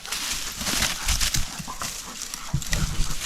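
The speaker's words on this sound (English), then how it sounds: "The dogs are kind of getting in the way now." Dogs moving about close by during a bear pack-out in British Columbia, with irregular rustling, shuffling footfalls and brushing through brush, uneven and near.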